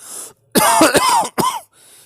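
A single harsh, wet cough burst with a couple of follow-up hacks, loud and close, with brief breathy sounds before and after.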